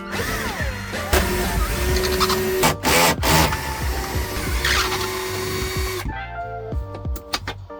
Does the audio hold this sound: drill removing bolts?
yes